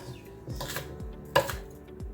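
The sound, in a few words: knife chopping bell pepper on cutting board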